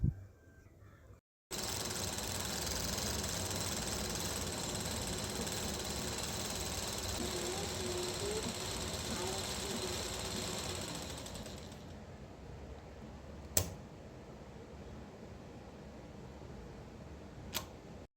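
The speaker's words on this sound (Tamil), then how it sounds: "பாபின்லேயும் நூல் பார்த்திங்கன்னா நம்ம சைடு வர்ற மாதிரி தான் சுற்றி விடணும்" A large Merrit sewing machine winds thread onto a bobbin in a steady, continuous whir that runs for about ten seconds, slows and fades, and then gives way to a few sharp clicks.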